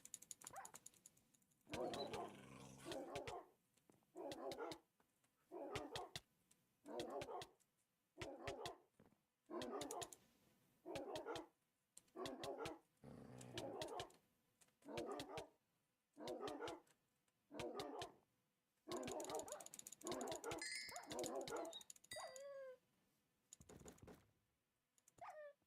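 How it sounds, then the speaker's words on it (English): Dogs in Hypixel Skyblock bark in a long run of regular, evenly spaced bursts, each bark clear and close, with keyboard-like clicks running alongside and a brief higher chirp near the end. "Alright, dogs. I need you to bark here."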